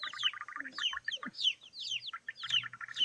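Hens cluck and chirp in quick, busy bursts, fairly close, with a few higher bird calls mixed in and no talking.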